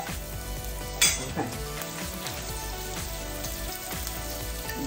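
Food sizzles and crackles steadily in a hot pan, with a sharp clink of a utensil early on and a brief spoken word.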